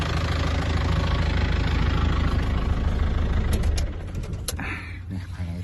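A 2004 Isuzu D-Max 2.5 diesel pickup idling nearby, a loud steady low rumble that drops in level near the end as the engine is shut off, with a few brief clicks afterward.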